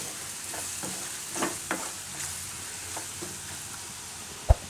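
Gram flour roasting in oil over a low gas flame for a Gujarati dahi marcha shaak, giving a soft steady sizzle with a few faint stirring scrapes and one sharp clink near the end.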